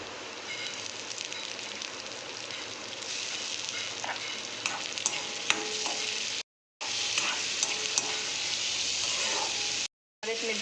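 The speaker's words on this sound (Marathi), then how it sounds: "आता मी टमाटर सोडते याच्यामध्ये" Tomatoes tipped into onion and chili already frying in hot oil, a steady broadband sizzle with clatter from stirring, running continuously apart from two brief cuts to silence.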